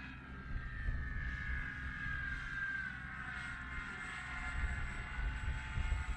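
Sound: model Hawker Hurricane airplane flying

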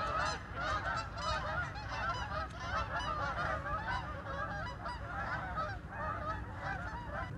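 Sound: ducks quacking, many ducks

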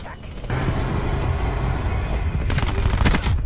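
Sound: Thresher ground attack gunfire in the video game Call of Duty: Black Ops 4

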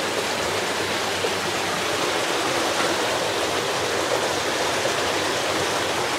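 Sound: brook (beck) flowing into Robin Hood's Bay

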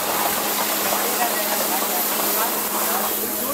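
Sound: oil heating in a pan for Schezwan sauce

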